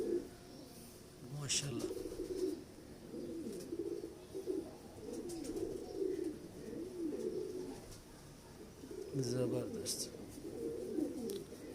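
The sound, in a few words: pigeons cooing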